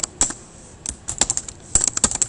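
Computer keyboard being typed on in short bursts of crisp, close clicking keystrokes with brief pauses between groups.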